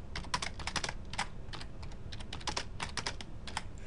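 Rapid keystrokes on a computer keyboard while entering an Excel shortcut, a brisk run of close, crisp clicks with no talking.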